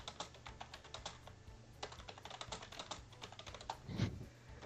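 Quick, uneven clatter of keys as someone types on a computer keyboard during a tabletop role-playing game session, fairly close, in bursts of rapid strokes with short pauses and no talk.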